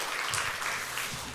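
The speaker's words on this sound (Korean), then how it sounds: "우리 한번 우리 청년들과 모든 분들에게 박수 한번 줄까요?" Church congregation applauding during a Sunday service, a steady wash of clapping from many hands without a break, moderately loud and fairly close.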